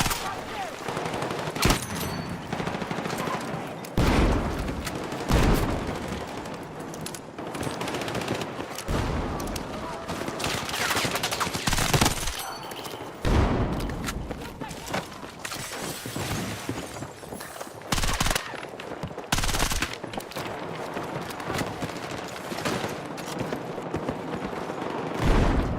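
Gunfire in a first-person shooter game: long, sustained automatic bursts and rapid shots fill the whole stretch, loud and close, broken by short pauses and brief sharp cracks, with little talk.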